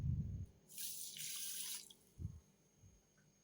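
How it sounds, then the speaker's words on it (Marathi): Three-quarters of a cup of water is poured into a pot holding a cup of sugar to make syrup. A brief, faint splashing pour lasts about a second, followed by a couple of soft drips. "त्यामध्ये पाऊण कप पाणी घालून"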